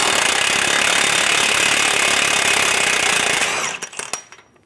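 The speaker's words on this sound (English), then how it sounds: "remove the axle nut" An impact wrench with a 34mm socket hammers loose the rear axle nut on a 2008-2017 Buick Enclave, a loud continuous rattling burst that stops abruptly, followed by a few metallic clinks and clatters.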